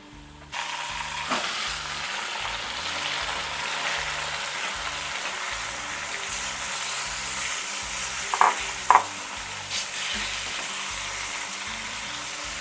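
Chicken pieces sizzle in a pan of golden fried onions for a chicken curry, a steady close frying hiss with scraping spoon strokes and a couple of sharp metallic knocks near the end.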